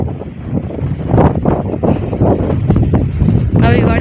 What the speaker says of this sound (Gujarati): પવન બહુ આવે છે એટલે હરખો અવાજ નહીં આવતો હોય. અહીંયા પવન બહુ છે.